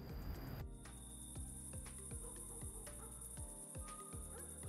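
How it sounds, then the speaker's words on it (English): Crickets chirp in a steady pulsing rhythm within a rooftop ambience preset from Krotos Studio, with faint background hum and a sustained high tone. "I'll use Barcelona Rooftop because it has some cricket sounds that we can isolate and add to this scene"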